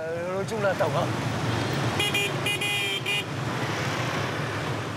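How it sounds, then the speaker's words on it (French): Car horn tooting in crowded traffic in Vietnam, a few short honks in a quick burst amid steady road and engine noise, with a voice talking over it. "Quand il y a du monde comme ça, il faut klaxonner."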